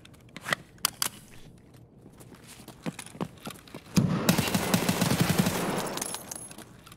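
Gunfire in the shooter game Escape from Tarkov: a few spaced single shots at a scav, then a sustained full-auto burst emptying the magazine, loud and close with clattering mechanical clicks.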